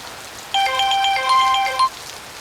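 Telephone ringtone of a call being placed, a short electronic melody of bright, evenly spaced notes lasting just over a second against quiet room background.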